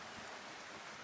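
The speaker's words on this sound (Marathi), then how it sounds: "आता जरा मोठा पाऊस आलाय बघा अशा प्रकारे." Heavy rain falling on a shed roof, a faint continuous hiss of drops with soft patter, brief and without any voices.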